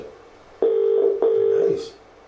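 Telephone dialing tones from a phone call during a live competition draw, heard as two steady electronic tone bursts in close succession, loud and near, with a faint voice near the end.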